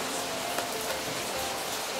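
Steady rain pours outside a kitchen on a wet day, an even, continuous patter and hiss that fills the whole stretch at low level, with no voices over it.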